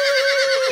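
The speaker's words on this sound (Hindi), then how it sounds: "घोड़ा।" A horse gives a loud, close whinny, one sustained high neigh with a steady pitch, standing alone without talk.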